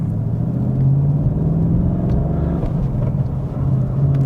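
A 2022 Ford Mustang Mach 1 engine rumbles loud and close as the car pulls away, with a deep steady drone and rising revs and no talk.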